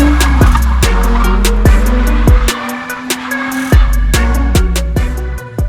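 Nissan Skyline drifting on a street, its engine droning loud and close while sharp transient bursts repeat through the run, with a brief drop in engine tone midway before it surges again.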